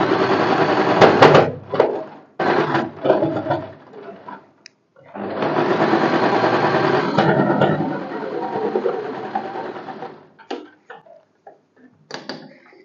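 Sewing machine stitching a blouse sleeve seam, several bursts of rapid mechanical whirring separated by pauses, the longest running steadily for about five seconds, then short ticks.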